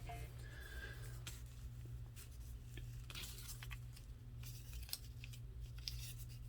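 Scissors snipping a neutral paper scrap for a book-page collage, several faint crisp cuts at irregular intervals over a quiet room hum.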